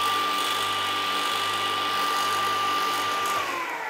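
An Einhell table saw runs continuously with a steady high whine and broadband roar, loud and close, winding down slightly at the end.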